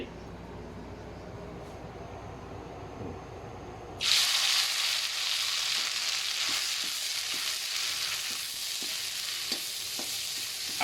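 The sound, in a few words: Thai curry paste being stir-fried in oil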